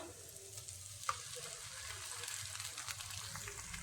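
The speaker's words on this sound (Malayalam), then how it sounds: "അതിലേക്ക് നമുക്ക് രണ്ട് മുട്ട ഒഴിച്ചു കൊടുക്കാം" Two eggs hit hot coconut oil in a pan, a soft, fairly quiet sizzle with light stirring and one brief clink, running steadily under near silence.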